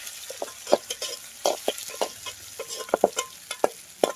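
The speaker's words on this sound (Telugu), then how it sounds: "మొత్తం ఫ్రై చేయాలి ఇప్పుడు, మిక్సింగ్ చేయాలి కదా." Pulao spices fry in a pan for paneer biryani, crackling under repeated scrapes and knocks of a spoon stirring them, loud and close with an irregular rhythm, no voices.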